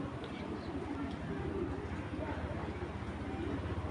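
Racing pigeons, including a big black checker bird, coo in a low, steady, repeating rhythm close by, with a faint chirp now and then over a continuous background murmur.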